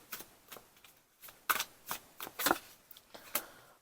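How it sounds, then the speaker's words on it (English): Tarot cards shuffle close by in irregular riffling bursts and soft slaps, with sharper snaps mixed in, and no talking. "I'm so scared to shuffle these cards"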